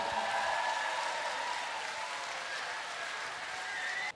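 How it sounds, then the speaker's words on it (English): A big round of audience applause for a crew at a live show, dense sustained clapping and cheering from a crowd, loud and even throughout before cutting off abruptly at the end. "How about one more big round of applause for the lovely white boys?"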